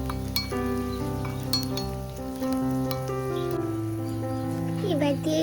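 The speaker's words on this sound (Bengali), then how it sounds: "একটু ভাজা ভাজা করে নেব" Ginger garlic paste sizzles steadily in a hot pan for a Kerala-style chicken curry, with light clinks from stirring, close and continuous under a person's talking.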